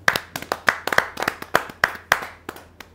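Scattered hand claps from a small audience welcoming a ghazal poet at a Hindi poetry gathering, distinct individual claps in an uneven rhythm, fairly close and short-lived.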